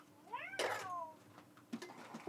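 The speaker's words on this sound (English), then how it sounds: "Put my new kitty back down here." A kitten gives one clear, rising-then-falling meow up close, followed by quieter rustling and small handling noises.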